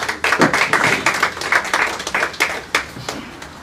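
Audience claps steadily for several seconds at a certificate presentation during an Urdu poetry mushaira awards evening in Ealing, loud and close with irregular sharp peaks as hands strike.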